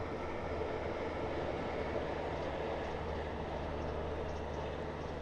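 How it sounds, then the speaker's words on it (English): A train runs past in the background near Southend Airport, a steady broadband rumble and rolling rail noise that holds evenly throughout at moderate distance. "Probably just heard the train go past in the background as well."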